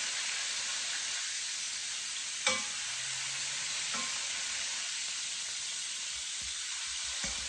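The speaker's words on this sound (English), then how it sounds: "I want room in the pan so that these could sear properly" Pieces of meat for an Irish stew sear in a hot pan, giving a steady close sizzle with a few sharp clatters as they are moved around, no voices.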